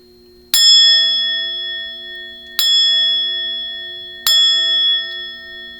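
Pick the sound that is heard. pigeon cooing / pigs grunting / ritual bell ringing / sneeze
ritual bell ringing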